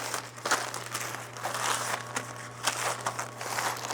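Close crinkling and rustling of a Tyvek protective gown being folded, papery crackles rising and falling in soft handling bursts against a faint steady hum.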